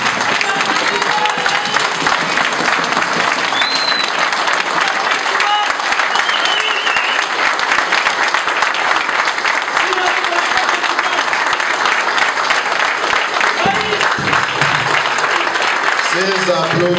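A political audience of the FCC family gives Joseph Kabila a long ovation, dense sustained clapping filling the room without pause, loud and close, with crowd voices and shouts mixed in.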